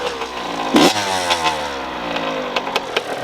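A 2-stroke dirt bike catches on the first kick and revs hard, its loud, raspy engine rising and falling in sharp throttle blips, close by, with no talking.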